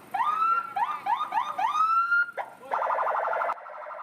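An ambulance siren during an evacuation of COVID-19 patients in Tasikmalaya, West Java, cycles through rapid rising whoops, then switches to a harsh pulsing yelp and a steadier wail, loud and fairly close.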